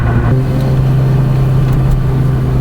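A Lotus mid-engine sports car with a Toyota engine idles with a deep, steady, throbbing hum, close by and unbroken for a few seconds, with no voices.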